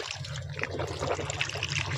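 During Islamic ablution, water is poured from a hand while rinsing, a faint, soft trickle and splash lasting about two seconds.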